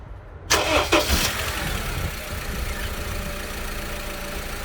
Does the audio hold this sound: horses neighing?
no